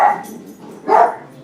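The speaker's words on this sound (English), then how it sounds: "I guess they're barking at a dog outside." Pet dachshunds indoors give two sharp, close barks about a second apart, with a softer yip between them.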